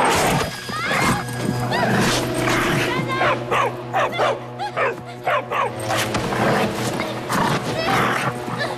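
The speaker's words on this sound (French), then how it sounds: "Cette chienne est enragée" A rabid dog snarls and barks in a TV drama scene, a series of sharp close yelps and growls over several seconds, mixed with tense background music.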